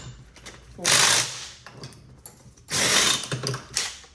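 A 17 mm spanner undoes the clutch nut on a KZ-type shifter kart engine, giving two loud bursts of rapid metallic ratcheting close up, with quieter clicks and taps between them.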